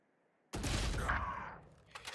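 Gunfire from a Valorant esports match breaks out abruptly after a quiet start as a loud rapid spray of shots, fading, then a few more shots at the end.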